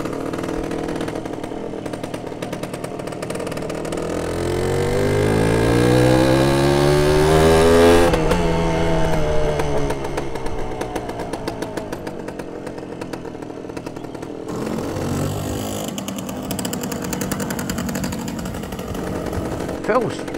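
A Suzuki RV125 sand bike rides past, a buzzy single-cylinder two-wheeler rising in pitch as it accelerates, loudest midway, then fading to a rougher idle-like putter with wind noise.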